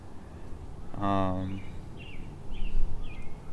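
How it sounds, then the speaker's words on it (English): Several short bird chirps repeat faintly in the background at a steady pace, while a person briefly speaks nearby over outdoor ambience. "The birds are chirping."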